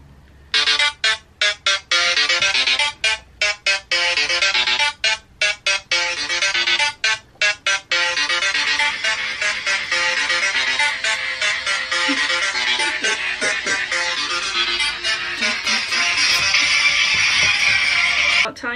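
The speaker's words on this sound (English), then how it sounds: "I have a sick ringtone." A phone ringtone plays loudly and close up as a bright electronic melody, first in choppy repeated bursts with short gaps and then as a continuous tune to the end.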